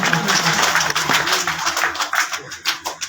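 A crowd applauds a student at a school's annual results announcement, dense clapping that thins toward scattered, separate claps at the end, with a voice heard speaking under it.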